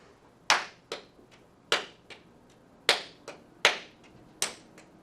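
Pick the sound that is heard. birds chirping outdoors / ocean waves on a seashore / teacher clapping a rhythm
teacher clapping a rhythm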